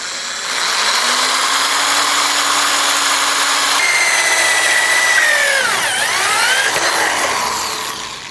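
Power drill boring a new hole while installing Go Rhino E1 electric running boards on a Jeep JK, a loud steady whine that drops pitch under load, rises again and dips as the bit bites, close and continuous.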